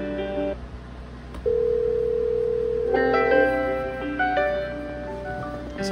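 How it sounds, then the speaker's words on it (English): A Cisco CP-8831 conference phone rings with an electronic ringtone: a sustained steady tone, then a run of stepped melodic beeps, fairly loud and close over a faint background hum. "Now, it does something weird with the ringtone."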